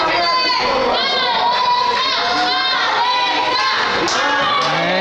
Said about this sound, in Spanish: Se están escuchando los gritos de apoyo.